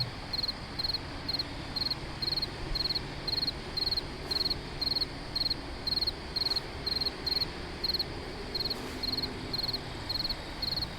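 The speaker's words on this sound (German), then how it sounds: "Ah, da ist wieder eine Grille irgendwo." A cricket in the video game Morels: The Hunt 2 chirps in steady, evenly spaced short pulses over a constant soft ambient hiss, continuing alone throughout.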